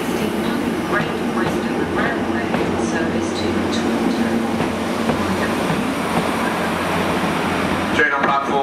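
A British Rail Class 769 train at a Cardiff station gives off a steady, loud rumble and mechanical hum that runs throughout, with a brief louder change near the end.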